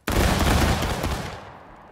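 A musket volley fires in War of Rights: one loud, near crash of many guns going off almost together, with a dense rumbling burst that decays over about a second into a fading tail.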